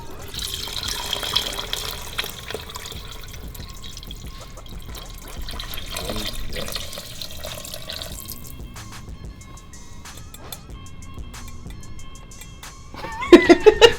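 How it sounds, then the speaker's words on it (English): Broth being poured into a pot of gumbo, heard as a steady close liquid pour with splashing and dripping that thins out, followed by a few sharp clinks near the end. "we're going to add our broth."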